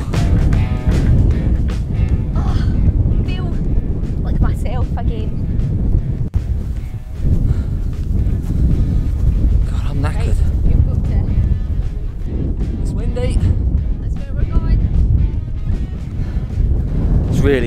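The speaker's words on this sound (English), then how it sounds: "Really windy." Strong wind buffets the microphone in a steady low roar throughout, with a person talking over it outdoors in Scotland.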